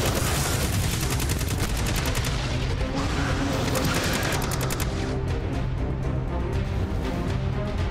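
Sustained automatic gunfire in the shooter game Destiny 2, rapid dense bursts running nearly unbroken through the whole stretch, loud and close with thick layered reports over a constant busy battle bed.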